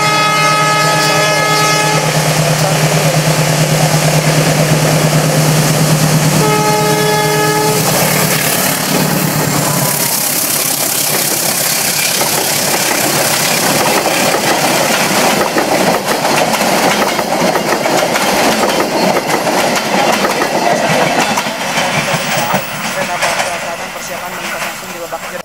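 A freight train hauling five cargo wagons and a power car passes Leles station in Garut, its horn sounding steadily before giving way to a loud, continuous rumble and clatter of wagons rolling close by that fades slightly toward the end.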